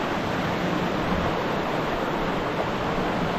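Glacier-fed river rushing steadily on a South American hike to Laguna del Diablo, a dense, continuous broadband roar of flowing water with no voices.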